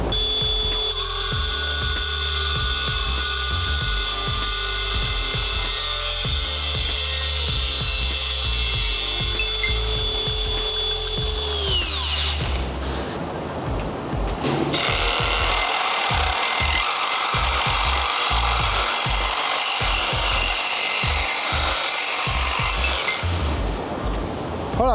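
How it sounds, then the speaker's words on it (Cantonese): A Hilti reciprocating saw cuts through metal such as angle iron, a loud close rasping buzz with a steady whining tone that stops briefly, then resumes as harsher rhythmic sawing. "咁你見到老虎鋸咧，會用啱佢嘅片咧去 cut 咧，切口會靚啦，火花冇乜咁滯噶啦。"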